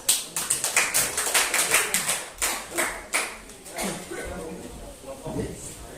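Students in a classroom clap after a group presentation, a short burst of distinct, fairly close hand claps that thins out after a few seconds, with a voice talking over it.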